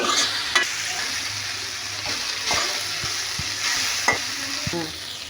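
Green tomatoes sizzle steadily as they fry in a pan, with a spatula scraping and stirring through them in several distinct strokes, close and continuous without any talking.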